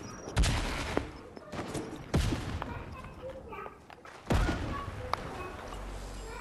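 Boom sniper fire in a Fortnite match, several heavy booming shots spaced a second or two apart, loud and close, with a busy background of game noise and scattered smaller bangs.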